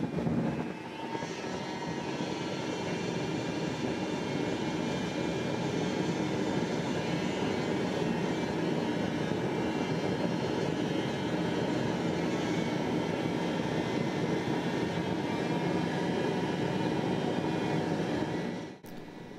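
A small RC carbon fiber jet engine runs at a steady, loud roaring whine with a broad rushing exhaust hiss, holding constant for about nineteen seconds before cutting off near the end.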